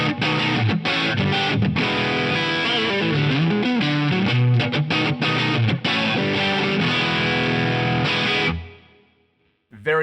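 Distorted electric guitar through an Axe-Fx III amp modeler's Tone of Kings drive plays a gritty bluesy riff with sustained notes, loud and up front, then fades out near the end.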